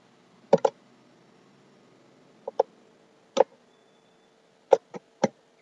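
A computer mouse clicks sharply while someone works in an Excel spreadsheet, with seven or eight crisp clicks, some in quick pairs, separated by near silence.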